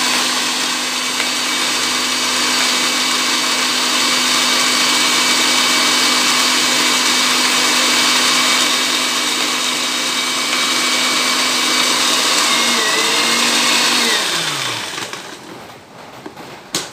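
An electric blender grinds a batch of spice paste for a corn dish, a loud steady whir holding its pitch for many seconds before the motor spins down and stops near the end.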